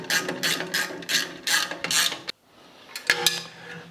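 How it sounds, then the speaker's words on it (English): A spanner ratchets bolts tight on the fence guide rail of an Axminster Trade AT3327B bandsaw during assembly, giving close, rhythmic bursts of metallic clicking for about two seconds, a short pause, then a few more clicks. "it's a case of use a spanner to get these ones in"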